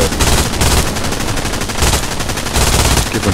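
An MG42 machine gun in Hell Let Loose fires sustained, rapid bursts from a bunker, loud and close, with the rattling shots blurring into a continuous roar across the whole stretch.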